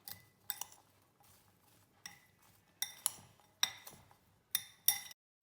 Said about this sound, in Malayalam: അപ്പോൾ ഉപ്പ് മഞ്ഞൾപ്പൊടി ഇട്ട് നന്നായിട്ടൊന്ന് മിക്സ് ചെയ്തെടുത്തിട്ടുണ്ട്.